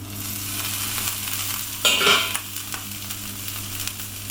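Onions caramelising in a pan give a steady close sizzle, with one brief louder burst of crackle from a stir partway through, and no voices.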